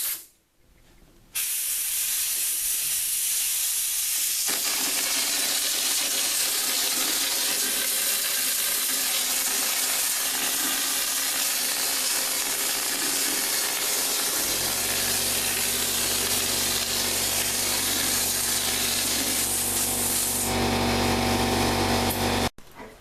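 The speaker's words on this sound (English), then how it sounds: "You're gonna spray it on thick and very uneven" Drywall texture sprays on thick and uneven at 35 psi, a loud continuous hiss lasting around twenty seconds, with a low steady hum joining partway through before it cuts off abruptly.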